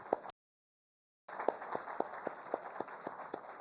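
Crowd applause at a skills summit welcoming the chief guest, many hands clapping steadily, broken by a brief silent gap before the clapping resumes with scattered louder claps.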